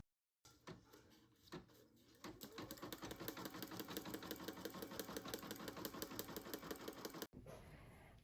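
An embroidery machine stitches the first placement outline of an in-the-hoop country bear stuffie on fabric in a 5 by 7 hoop with tearaway stabilizer, a steady fast needle clatter running alone after a few opening clicks.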